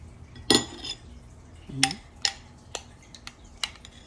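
Boiled egg whites are sliced for a salad, heard as a few separate knife taps and clinks against a plate or board, spaced irregularly and close by, with no talking.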